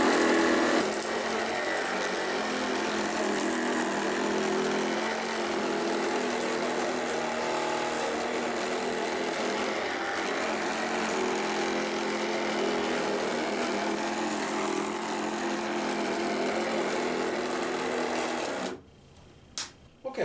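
A Shark ultra lightweight vacuum cleaner runs on its high-speed carpet setting, giving a loud, steady motor whine and airflow that holds evenly for about eighteen seconds before cutting off abruptly.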